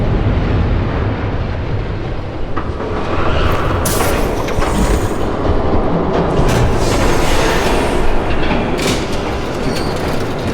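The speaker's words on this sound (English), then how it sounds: "There's a train coming." A train approaching in the Batman Telltale Series video game, a loud, continuous rumble of rolling wheels and rail clatter with occasional brighter metallic squeals, steady throughout.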